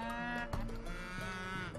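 Cattle mooing in the video game Age of Empires 3, several overlapping drawn-out bovine calls layered densely and loudly with no talk.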